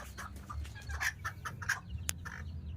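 Bantam chickens, Serama and chabo breeds, cluck in soft, scattered short calls with one sharp click, fairly faint over a low background rumble.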